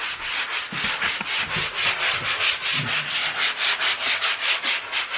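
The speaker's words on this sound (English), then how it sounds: "We are sanding." Walls are sanded by hand during a master bedroom renovation. A rapid, rhythmic back-and-forth rasping sounds close and continuous, with no talking.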